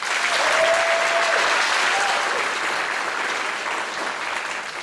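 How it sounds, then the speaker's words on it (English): A graduation audience claps for the salutatorian: loud, sustained applause from a large crowd, fading slightly toward the end. "Salutatorian, big round of applause"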